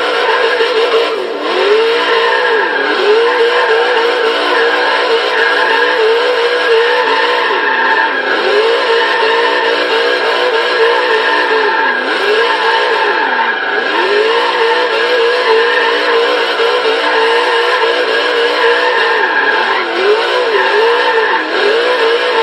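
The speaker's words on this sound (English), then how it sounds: "without drifting around the roundabout like 3 times" A 1972 Chrysler VH Valiant Charger R/T E49 with a max build drifts around a roundabout in the Forza Horizon 3 racing game, its engine roaring loud and steady with wavering revs and tyre squeal throughout, no talking.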